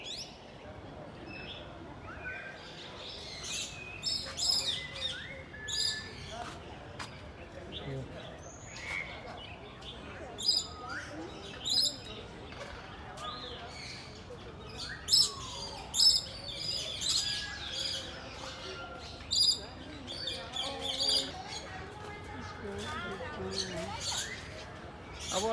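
Colorful birds in an aviary at Indore zoo chirp and tweet in scattered short calls throughout, mixed with crowd murmur and people talking nearby.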